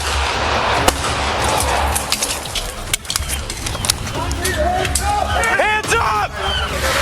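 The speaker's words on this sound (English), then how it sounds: "deputies discharged their service weapons toward the driver. Shots fired." Police deputies fire service weapons at a driver during a roadside confrontation, with a few sharp, sudden shots cutting through a noisy scene and people shouting.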